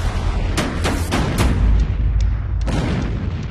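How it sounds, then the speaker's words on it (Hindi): Russian artillery cannons fire in the Ukraine war, a series of sharp booms at irregular intervals over a constant rumbling background, each blast followed by a brief decay. "साठ दिनों बाद भी रूसी तोपें धड़ाधड़ गरज रही है।"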